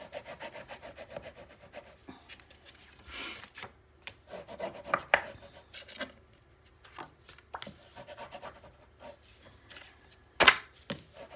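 Intermittent rubbing and scraping as paper craft pieces are burnished onto a 9 x 9 Nutcracker mini album panel, with uneven strokes, occasional sharper taps and scrapes, and no talking.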